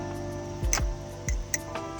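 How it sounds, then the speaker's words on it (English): A Machinewise Prysma fidget toy flipping with a clock-like tick: a few distinct, close clicks and low knocks spaced irregularly over a quiet background. "you hear the clock."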